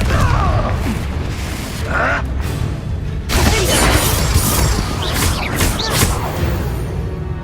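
Bombarda and Confringo spells explode in the Hogwarts Legacy video game: a run of heavy booms and crashing bursts over a rumbling background, several impacts close together.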